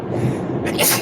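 A single quick sneeze bursts out close by, a brief sharp breathy blast following a moment of low room murmur.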